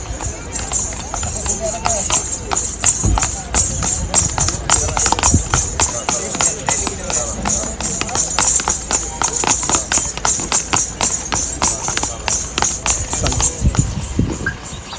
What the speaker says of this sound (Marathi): मस्त घोडं घोड्याचं नृत्य आहे